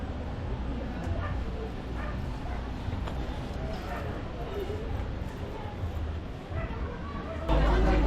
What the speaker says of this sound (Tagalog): totoong aso ba yan?